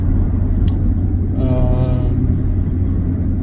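Nissan Patrol Y62 (2020) driving, a loud steady low engine and road rumble heard from inside the cabin, with a brief tonal whine rising midway and no talking.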